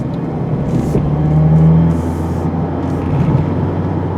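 A 2025 Mazda MX-5 Miata sports car driving on tight, twisty country roads, its engine a steady mid-toned hum from inside with a rising pull around the middle, alone without talk.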